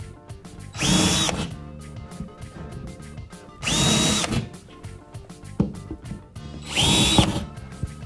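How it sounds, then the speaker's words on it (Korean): Power drill boring holes into a plasterboard wall to fit anchors for a shelf, three loud whirring bursts of about a second each separated by quieter handling sounds. "설치한 장소에 먼저 구멍을 타공하세요"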